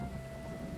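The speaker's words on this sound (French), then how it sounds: "Oh, il y a de l'orage." Steady rain of a thunderstorm in the video game Stranded Deep, with a low rumbling wash underneath, a continuous stormy backdrop at moderate volume, with a faint constant tone running through it.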